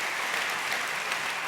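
Audience applause during a Christian talk about suffering and God's goodness, a steady dense wash of many hands clapping at moderate level, continuous and even throughout without speech.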